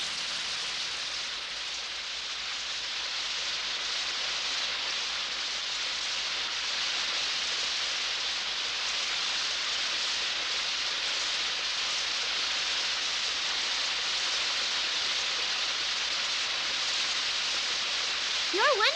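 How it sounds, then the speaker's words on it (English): Steady rain falling outdoors on an island, a continuous even hiss of drops holding at a constant level throughout with no break. "Look, everybody, it's raining."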